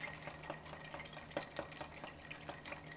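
Barspoon stirring a Dickel and Dew cocktail in a mixing glass, a steady close clinking and swirling of ice with faint sharper taps scattered through.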